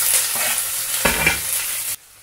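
Diced onion hits a few tablespoons of hot oil in a preheated frying pan, bursting into a loud, close sizzle with a scraping stir before the sound cuts off abruptly.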